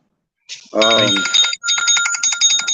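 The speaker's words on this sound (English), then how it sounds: "there go my work phone again" A work phone ringing in a morning radio studio, loud electronic trilling bursts in two close rings separated by a short gap, with no talk over it.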